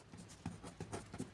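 Pen strokes scratch across paper while geometry notes are written out, a run of soft, close rubbing bursts in quick uneven rhythm with no voice.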